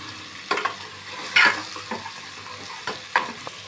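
Goat trotters are stirred in a hot pan, with a steady sizzle under several scraping strokes of the spoon across the metal.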